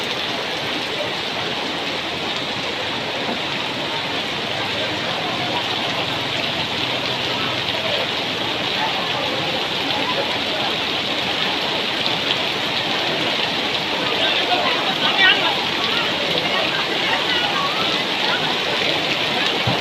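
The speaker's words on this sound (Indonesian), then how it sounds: "Rasanya masih hujan seperti ini." Rain falls steadily in a village in Babadan, Ngrambe, East Java, a dense, even hiss that holds for the whole stretch without breaks, moderately loud and close.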